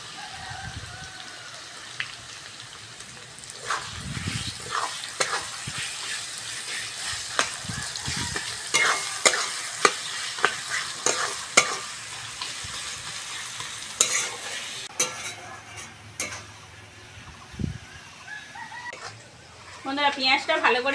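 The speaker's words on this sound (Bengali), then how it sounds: "এবার কুচনো পেঁয়াজটা দিয়ে দেবো।" Chopped onion frying in a pan for a chicken salad dish, a steady sizzle with repeated scraping stirs and clicks, close and moderately loud, with brief talk partway through.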